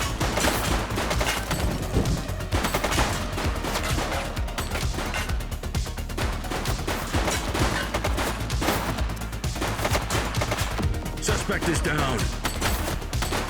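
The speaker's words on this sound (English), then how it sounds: "Shots fired!" Sustained, chaotic gunfire in the police game The Precinct, with loud overlapping shots and bursts running continuously, while voices talk over the shooting.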